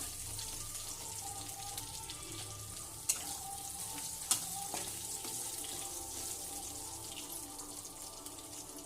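Snake gourd, ginger and other aromatics sauté in hot oil for a poriyal, a faint, steady low sizzle with a couple of sharp utensil clicks over it.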